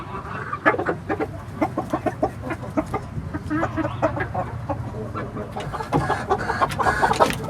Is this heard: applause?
no